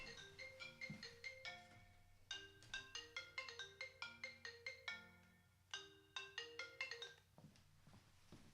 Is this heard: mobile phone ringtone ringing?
yes